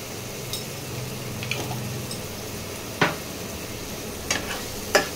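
Tomatoes sizzle quietly in a pan while a spoon stirs and scrapes against the metal in a few sharp, scattered knocks.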